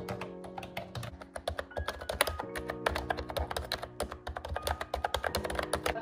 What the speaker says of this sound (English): I know a lot of people are particular to keyboard sounds. I really do like the click of this one.